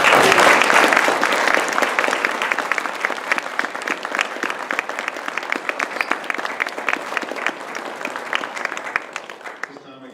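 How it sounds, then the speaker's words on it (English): Audience applause at an Eagle Scout ceremony, dense and sustained for about ten seconds, loudest at the start and gradually tapering off toward the end. "let's give them a round of applause"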